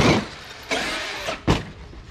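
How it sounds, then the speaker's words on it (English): A Traxxas X-Maxx RC car, held off the ground with its wheels in the air, gives a loud full-throttle motor burst that whines up and then cuts off, with a shorter second burst following. "So that was kind of a full throttle burst."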